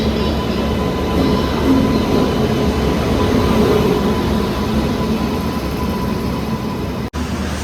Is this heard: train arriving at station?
yes